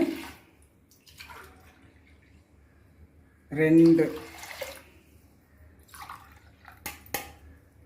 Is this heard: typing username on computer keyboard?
no